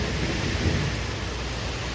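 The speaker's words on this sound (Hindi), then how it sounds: "देखिए बहुत जोर से बारिश हो रही है।" Heavy rain falling outside a window, a dense, continuous roar of downpour with a low rumble of thunder swelling early on, steady and close, with no voices.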